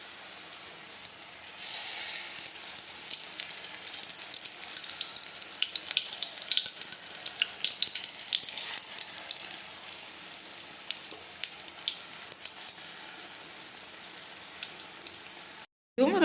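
Oil heating in a pan for frying jackfruit cutlets (Odisha-style kathal chop), giving a steady hiss and light crackle that runs close and continuous, with faint background noise and no talk.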